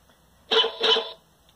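A dog bark sound effect played from a Franzininho microcontroller board comes out as a short electronic double woof, two quick tinny barks in a quiet room.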